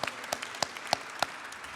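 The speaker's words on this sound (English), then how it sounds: "Round of applause for all our family members that are here." Scattered, sparse clapping from a small audience at a police department officer-of-the-month ceremony, a handful of distinct claps spaced unevenly over a couple of seconds, fairly faint.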